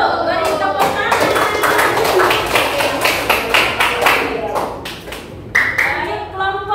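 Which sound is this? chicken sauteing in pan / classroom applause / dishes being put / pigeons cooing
classroom applause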